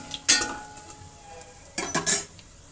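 Mustard seeds sizzling in a pan for tomato rasam, with a spoon scraping and clinking against the metal in two short bursts over a soft background crackle, close up.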